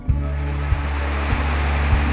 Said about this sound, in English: The waterfalls of Mauritius still remain a beautiful discovery for nature lovers.